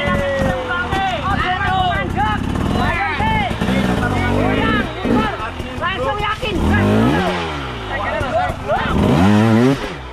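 Enduro motorcycle on a hard enduro trail, its engine revving at medium throttle in repeated rising and falling surges, loud and close, with voices talking over it.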